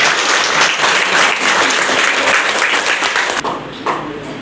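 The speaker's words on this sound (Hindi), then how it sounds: "एक बार जोरदार ताली बजाएं" A crowd at a school award ceremony for a girls' high school claps loudly and steadily. The dense applause holds for about three seconds, then breaks off into a few scattered claps.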